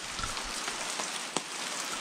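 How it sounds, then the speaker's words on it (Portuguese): Rain falling steadily at a riverside fishing camp, a soft even hiss of drops on surfaces with one sharper drip standing out, no voices. "Chuva."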